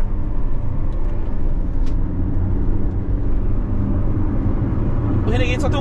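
Loud, steady drone of a diesel Jeep Renegade driving on the road, heard from inside the car with constant engine and road rumble and a brief higher whine near the end.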